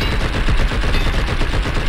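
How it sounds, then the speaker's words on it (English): Rapid gunfire from the video game Blood And Bacon, shooting an undead pig, comes as a dense, loud burst of repeated shots with no break. "we have to keep shooting it up in the air"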